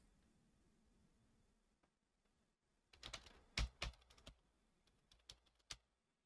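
Fingers tap on a computer keyboard entering card details, very quiet and close, starting with faint keystrokes and then a quick flurry of sharper clicks and a few isolated key presses near the end.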